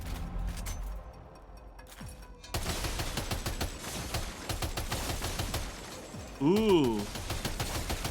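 A drum-magazine gun in a video game fires at a firing range in a steady run of sharp, evenly spaced shots, preceded by quieter ambience. A brief voice exclaims near the end over the gunfire.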